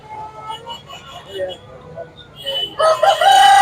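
A rooster crows at a country chicken market, a loud, close, rising call near the end that follows softer clucking and ambient market noise.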